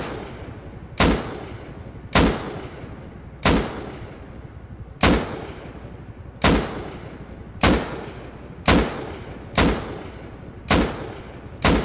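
Gunfire and explosions from a raid on an armored base in the Rust video game: ten heavy, evenly spaced booming blasts roughly every second and a quarter, each decaying into a rumbling tail, with no talking.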